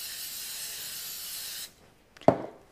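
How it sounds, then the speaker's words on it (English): Cooking spray is misted onto a baking pan for yeast bread in a steady, close hiss lasting about a second and a half, followed by a short clatter as the can or pan is handled. "we need to prepare our baking pan by spraying it with a little bit of cooking spray"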